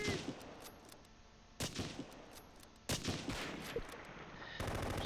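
Gunfire in the WWII tactics game Close Combat, set in a battle around Belgorod near Kharkov, with sharp shots and short bursts cracking over a rumbling background of battle ambience, some distant and some close.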